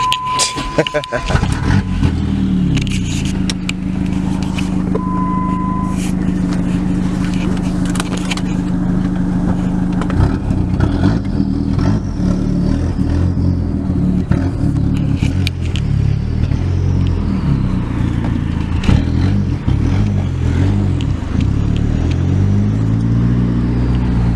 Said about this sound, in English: Hopping in his SRT4. He'll take me on a ride real quick.